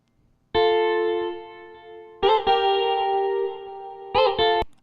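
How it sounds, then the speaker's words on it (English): Guitar part programmed as MIDI and played back in Logic Pro X, giving clean sustained synthetic tones: one long held note, then a string of plucked notes and a quick double hit near the end. "It's not live guitar, it's MIDI guitar."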